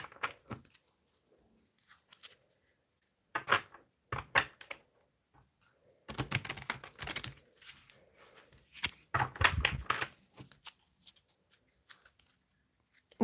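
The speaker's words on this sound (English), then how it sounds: "let's have a little shuffle." Tarot cards are shuffled by hand in several short, quiet rustling bursts separated by pauses, heard up close in a calm room.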